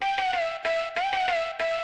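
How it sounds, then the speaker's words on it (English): A short excerpt of a hard-hitting ATEEZ-style boy group beat without saturation. A steady synth lead plays over a few punchy, evenly spaced hits. "And without this saturator,"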